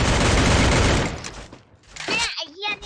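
Dense, loud burst of automatic gunfire from the Free Fire mobile shooter game, a sustained rattling fusillade that cuts off, followed by a player's excited speech.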